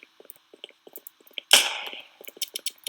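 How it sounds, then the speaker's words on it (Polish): One sharp warning gunshot in a video game cracks midway, ringing briefly, amid a scatter of small clicks and taps. "Daję strzał ostrzegawczy."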